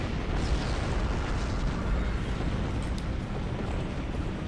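Starship cannons fire in a sustained, dense roar of overlapping blasts during a Star Trek Online space battle with a Mat'Ha Raptor, loud and continuous with no pauses.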